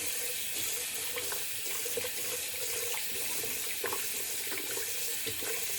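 Steady water running from a bathroom sink faucet during a wet shave with a Muhle R41 safety razor, a close, continuous hiss and splash with small clinks as the razor is rinsed under the stream.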